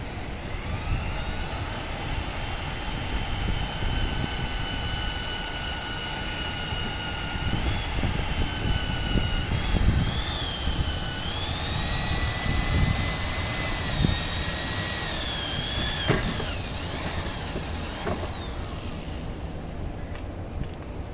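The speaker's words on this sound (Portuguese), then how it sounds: "Agora os próximos furos com essa broca mais grossa, ele vai ficar bem mais fácil de fazer." A power drill with a thicker bit bores holes in metal while building the bed of a motorhome, its motor whining steadily and shifting pitch over a loud, continuous broadband roar, with no talking.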